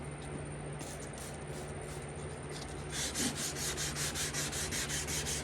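Hazy plastic headlight lens being wet-sanded by hand with 600 grit sandpaper, a steady close scratchy rubbing that turns into a quicker rhythmic back-and-forth stroking partway through.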